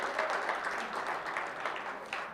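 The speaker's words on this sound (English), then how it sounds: "another round of applause." A school board meeting crowd gives a round of applause for a district soccer team, an even, continuous patter of many hands clapping throughout.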